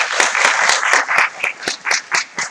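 A lecture audience claps for a mathematics professor introduced at a college-entrance exam prep class, a steady burst of hand claps that thins into separate, spaced claps toward the end.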